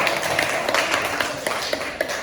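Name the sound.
applause for group 4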